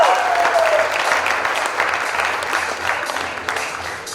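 An audience at the Miss Armada pageant applauds a contestant with a dense, steady roll of clapping, a short whistle at the start, then slowly fading over four seconds.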